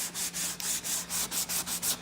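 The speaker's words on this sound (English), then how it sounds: "So just lightly sand over the surface." Light hand sanding over a leather classic car seat that carries fibre binder and filler, about ten soft, even rubbing strokes in a steady back-and-forth rhythm, close and quiet with no talking.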